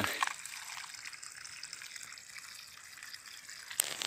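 Water gushes and trickles from a newly joined pipe in a hillside village, a soft, steady splashing flow heard close by, with a sharper splash at the start and near the end, and no talking.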